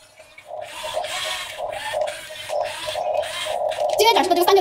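A remote-controlled toy excavator digging, with a rhythmic series of about six scraping, rasping strokes at close range, a steady motor whine beneath, and a voice joining near the end.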